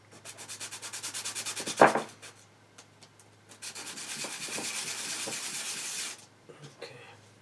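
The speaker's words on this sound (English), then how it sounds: "Now what I'm going to do is just sand the base." Close, steady rubbing of a metal bezel baseplate on sandpaper, with a rhythmic back-and-forth stroke at first, then a smoother continuous scrub, and a brief clack in between.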